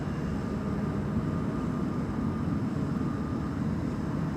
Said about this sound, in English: was there a C-130 passing overhead?